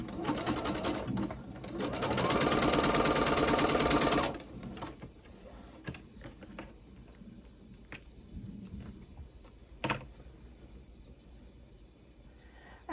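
A sewing machine stitches through a quilt block, running loud and steady for about four seconds before stopping, followed by quiet handling noises and a few soft clicks.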